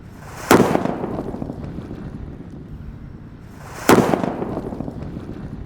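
Two sharp bangs from paper-wrapped firecrackers go off a few seconds apart, each followed by a brief rumbling decay over steady outdoor wind noise.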